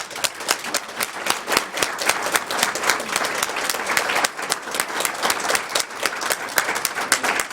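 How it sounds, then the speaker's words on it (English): A conference audience applauds steadily, many hands clapping in a dense, sustained round at moderate loudness with individual claps standing out, and no speech over it. "Let us thank them in applause."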